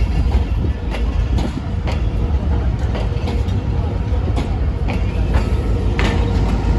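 A GMCU diesel locomotive shunting at Faisalabad railway station, a loud steady rumble of engine and rolling wagons with repeated metallic clanks and squeals scattered throughout, close by.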